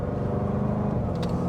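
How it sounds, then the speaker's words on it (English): Jaguar F-Pace SVR with its V8 under half-throttle acceleration, a steady close engine drone that holds level throughout, with a brief crackle near the end. "Oh, I like those pops and crackles in the back."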